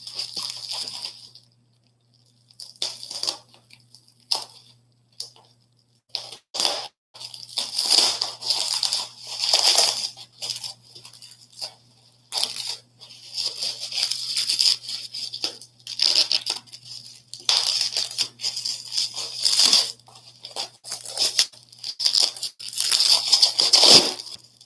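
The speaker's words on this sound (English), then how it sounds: "we'll cut this thing open and see what we have" Someone cuts and tears open a 1986 Topps baseball card wax box, with bursts of crinkling, ripping wrapper and cardboard scraping spread across a long stretch, broken by short pauses and a steady low hum beneath.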